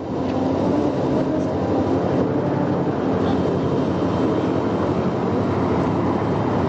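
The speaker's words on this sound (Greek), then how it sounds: "Βλέπουμε τα ελικόπτερα Apache, βλέπουμε NH-90" Apache and NH-90 military helicopters fly over a military parade in Thessaloniki, giving a loud, steady, continuous drone of rotors and engines that holds for several seconds without talk.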